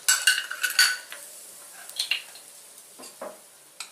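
Cashews in ghee get stirred in a pan, with a series of sharp clinks and scrapes of a utensil against metal over a faint sizzle, bunched at the start and scattered later.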